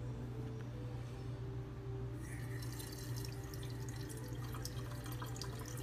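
Water running from the spigot of an iSpring RCC7AK reverse osmosis system, a faint steady trickle under a low hum, with the flow brightening partway through.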